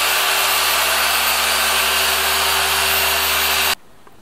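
A machine polisher refines the paint on a Porsche Carrera GT with a loud, constant whirring drone that holds steady, then cuts off abruptly near the end, leaving near silence.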